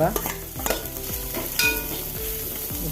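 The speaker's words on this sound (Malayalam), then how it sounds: "നല്ലപോലെ ഒന്ന് മിക്സ് ചെയ്ത് ഇനി അരിഞ്ഞ് വെച്ച കോവക്ക ചേർത്ത് കൊടുക്കാം" Grated coconut stirred into onions frying in a pan for an ivy gourd stir-fry, with a loud, close sizzle and rhythmic scraping strokes of a spoon repeating about every half second.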